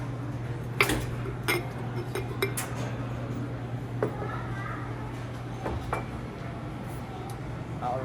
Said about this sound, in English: you want to take your rings of shallots and just add it to a jar.